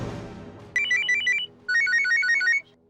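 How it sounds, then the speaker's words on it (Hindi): A telephone rings with an electronic trilling ringtone in two bursts of rapid warbling notes, separated by a short silence, after a dull fading thump at the start. "अरे सुलेमान का फोन है।"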